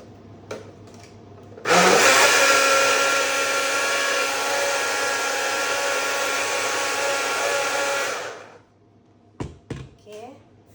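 An electric blender whirs loudly and steadily for about six seconds while mixing a mango shake, then stops, and a few soft kitchen clatters follow.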